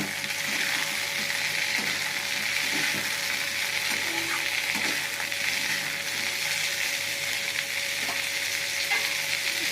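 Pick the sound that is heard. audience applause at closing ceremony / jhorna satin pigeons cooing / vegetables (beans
vegetables (beans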